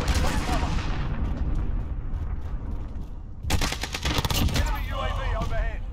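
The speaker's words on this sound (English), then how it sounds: "Enemy cruise missile incoming! Take cover!" A cruise missile strike in Call of Duty Modern Warfare: loud dense booming and rumbling blasts with crackling debris, a second heavy burst of explosions midway, with game voice callouts mixed in.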